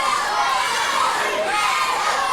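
A wrestling crowd at a Community Championship Wrestling triple threat match cheers and shouts in a steady, dense roar, with mixed voices rising together and no single chant standing out.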